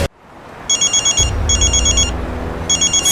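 A telephone rings in three bursts of rapid electronic trilling, each lasting about half a second, over a low steady room hum after a brief click at the start.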